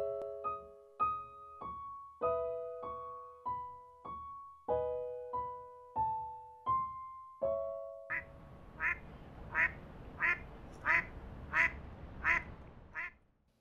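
Mallard ducks quack in a park during winter birding: a steady series of about a dozen loud, nasal quacks at close range with no voices, then a quicker run of harsher calls over a rougher background.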